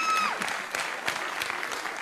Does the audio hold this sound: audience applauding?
yes